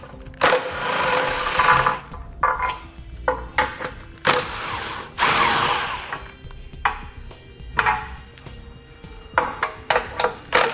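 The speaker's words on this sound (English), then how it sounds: "There's 2 bolts located on each side we're going to remove with a 15mm socket." A power tool with a 15mm socket spins bumper beam bolts loose in loud whirring bursts of one to two seconds, separated by pauses with clinks and handling clatter.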